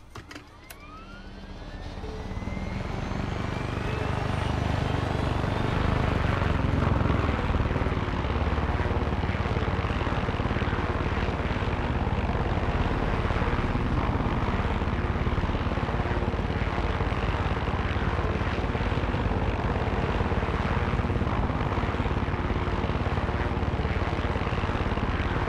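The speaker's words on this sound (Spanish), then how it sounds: "Y aquí está un helicóptero." Helicopter in the video game Far Cry 6 spooling up and then holding a steady, dense rotor and engine drone, rising over the first few seconds and staying loud and continuous, with no talking over it.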